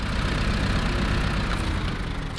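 A truck engine in the SnowRunner video game runs steadily, a loud, dense mechanical drone with deep low rumble that holds evenly throughout, heard alone.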